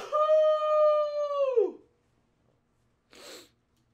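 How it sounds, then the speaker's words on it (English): A single short sneeze bursts out near and fairly loud after a sustained high, howl-like vocal tone and a second of silence. "Sneeze is coming."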